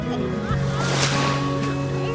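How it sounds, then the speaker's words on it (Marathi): Sea waves at JBR beach in Dubai make a steady wash of surf across the whole moment, close and fairly loud. Wind noise and other low hums lie underneath. "बीच पोहोचलो होतो आम्ही आता JBR बीचला."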